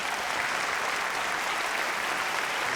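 Steady, dense applause from a TV talent show audience, continuous and fairly loud throughout with no voices standing out.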